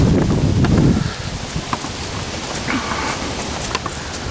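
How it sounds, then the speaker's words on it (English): Steady rain falls through woodland in a wide, hissing wash, with a heavier rush of noise and wind in the first second before it settles into an even patter with occasional nearby drips. "Every once in a while, I hit an open spot and the rain hits me."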